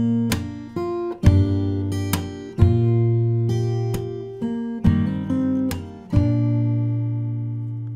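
A fingerstyle acoustic guitar plays the chorus of a song as a string of ringing plucked notes and chords. Sharp percussive kicks and slaps on the body punctuate it at intervals, played close with no voices.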